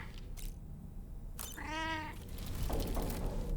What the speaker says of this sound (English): What's this? Kitty cat.